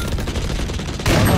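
Dense automatic gunfire in a video game, a fast rattling stream of close, loud shots that swells into a heavier burst near the end.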